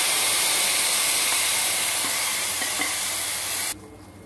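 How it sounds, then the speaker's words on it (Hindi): Cumin, fenugreek, mustard seeds and whole dried red chillies tempering in hot oil for a tangy desi pakora kadhi give a loud, steady sizzle and hiss that carries on for several seconds and then drops off abruptly near the end. "अब हम इसमें तड़का लगाएंगे।"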